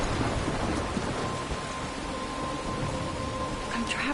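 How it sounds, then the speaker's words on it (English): Steady rain and rumbling thunder from a storm in the video game Life is Strange, a dense continuous wash of downpour with low thunder rolling underneath, sustained and fairly loud throughout. "I'm trapped in a storm?"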